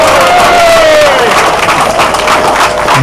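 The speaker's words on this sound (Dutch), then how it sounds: "Geef hem een daverend applaus" Loud, dense applause and cheering from a crowd greeting a winner after a royal sprint race, with a whistle-like cry rising at the start and a voice calling over the steady roar.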